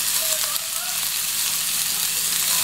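Carrot and potato pieces fry loudly in a pan with oil, a steady close sizzle that continues unbroken without speech.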